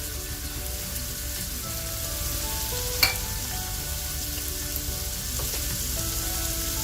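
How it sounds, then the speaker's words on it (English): Raw chicken meatballs fry in a pan with a steady, dense sizzle and crackle throughout, a single sharp clink partway through, and no talking. "We're just gently going to add this to the pan. So we're looking, these are raw meatballs, we're looking to cook them and have a gentle brown crust."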